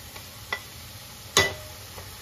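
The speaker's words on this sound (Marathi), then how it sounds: "आणि असे त्यामध्ये मॅश करून घ्यायचे" Roasted, peeled eggplant mashed in a pan with spring onions for bharit. A few sharp scraping, squishing strokes sound close, set apart by quiet gaps.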